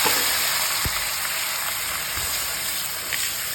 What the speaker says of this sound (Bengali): পেঁয়াজ দিলাম হালকা ভাজা হচ্ছে